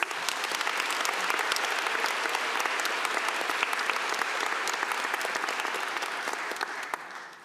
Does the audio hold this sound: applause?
yes